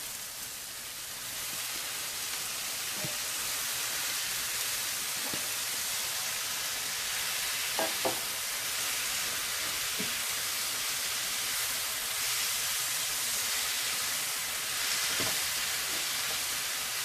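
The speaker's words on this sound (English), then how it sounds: "So we are going to be adding shrimps now." Shrimp sizzle in a pan over softened onions and bell pepper, a steady, even hiss of frying that runs throughout with a few faint utensil clicks and no talking.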